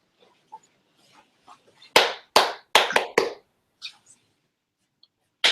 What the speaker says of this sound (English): when I clap a rhythm, you repeat it and look at me